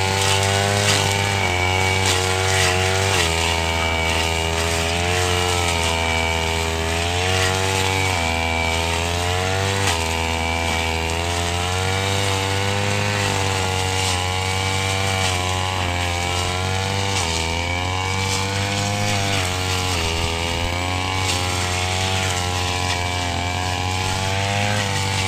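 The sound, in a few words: grass cutter running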